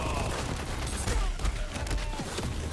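Sniper rifle gunfire in the Borderlands video game: several sharp cracks and booms punch through dense, continuous game noise, with a few irregularly spaced heavy shots standing out near the middle.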